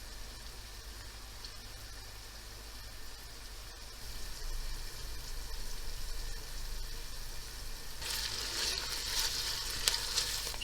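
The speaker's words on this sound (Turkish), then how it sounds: "Soğan ve biberlerim sıvı yağın içerisinde biraz sotelensinler." Onions and peppers sauté in cooking oil with a continuous close sizzle, which swells into a brighter, louder crackle near the end as the pan is stirred.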